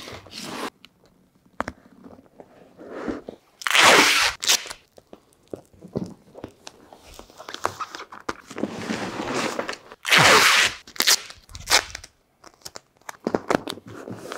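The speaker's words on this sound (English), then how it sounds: "I'm laying that duct tape on there" Duct tape is pulled off the roll in two loud, sharp ripping bursts and pressed over fiberglass duct wrap on a round pipe elbow, with crinkling, rustling handling noises between.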